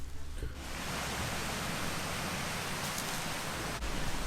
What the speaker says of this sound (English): I can hear some waterfalls.